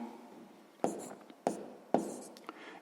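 Pen or chalk marks a fraction in a quiet room, with three sharp tapping strokes and faint scratching between them. The marks are soft and close, with no voice alongside.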